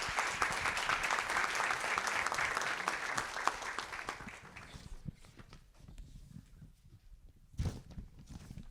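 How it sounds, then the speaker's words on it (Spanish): Audience applause at a university event in Chile, dense clapping for about four seconds that fades into a few scattered claps and quiet room noise. "Un aplauso para Verónica."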